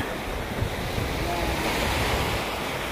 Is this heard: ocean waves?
yes